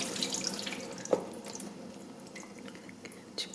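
Sriracha honey marinade draining off beef jerky meat into a sink, a steady watery trickle with a brief louder splash or knock near the middle and a small one near the end, fairly quiet.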